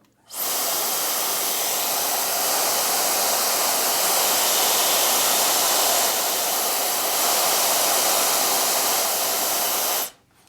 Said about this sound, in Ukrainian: Я зараз буду його вмикати і потихеньку буду збільшувати швидкість, щоб ви відчули різницю швидкості звук